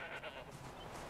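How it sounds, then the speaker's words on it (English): A goat bleats faintly in the distance within the snowy game world of Horizon Zero Dawn, the call soft and drawn out beneath steady ambient wind noise, with no voices. "Oh, there's a goat somewhere."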